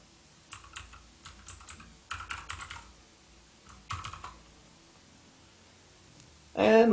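Close, crisp keystrokes on a computer keyboard come in quick bursts of clicks with short pauses as a password is entered, ending with a brief louder noise.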